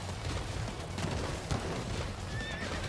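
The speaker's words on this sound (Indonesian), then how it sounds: "Mana kuda gue? Ini dia." A horse in the video game Attack on Titan Wings of Freedom whinnies loudly, with clip-clop hoofbeats and a steady bed of game noise behind it.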